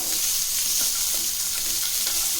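Onions frying in oil for a hotel-style ivy gourd fry, a dense, loud, continuous sizzle heard up close with faint stirring movements and no voices.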